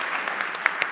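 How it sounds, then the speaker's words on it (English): A game show audience claps in a brief, dense burst of steady applause, loud and close, with no talking over it. "So please, round of applause."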